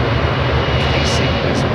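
A jet airliner with Rolls-Royce Trent 1000 engines at London Heathrow gives a loud, close, continuous engine roar, with a few brief higher whines rising over it.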